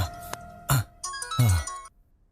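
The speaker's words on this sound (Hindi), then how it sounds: "किसका फोन आ गया?" A phone ringtone plays a short repeating melodic tune, clear and close, with no talking over it.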